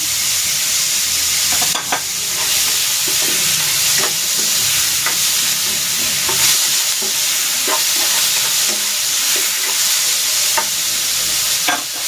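Shrimp sizzle loudly in a hot pan for banana heart laksa, a dense continuous frying hiss broken by repeated sharp scraping and stirring clicks.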